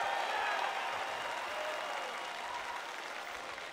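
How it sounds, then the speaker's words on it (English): An audience at a National Boy Scout Jamboree applauds steadily, a dense wash of clapping that tapers off gradually over a few seconds. "Can you guys give them a round of applause for actually encouraging a crazy dream in a young eagle?"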